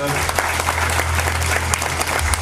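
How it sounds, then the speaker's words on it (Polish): Steady applause from a crowd at an Independence Day ceremony, dense and continuous, with a low constant hum underneath throughout. "duże, duże brawa!"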